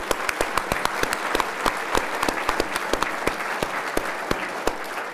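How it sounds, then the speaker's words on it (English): An audience at a keynote event applauds steadily, a dense spread of many hands clapping with sharp individual claps standing out near the front, continuing without pause. "can we get a round of applause for that?"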